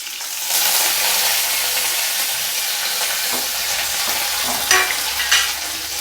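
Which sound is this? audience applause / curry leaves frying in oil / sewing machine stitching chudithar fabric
curry leaves frying in oil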